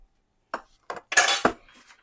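A spoon clinks and scrapes against a pot while turmeric and salt are stirred into tarka dal, a few short separate metallic knocks followed by a brief scraping swirl, close and otherwise quiet.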